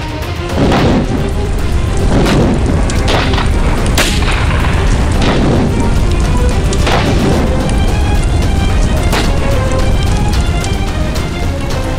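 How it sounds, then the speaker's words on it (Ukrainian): A deep boom rolls out over a constant loud rumble, with a few sharp cracks scattered through twelve seconds of heavy, sustained noise. "Як бачите, хлопці, сила вибуху невелика."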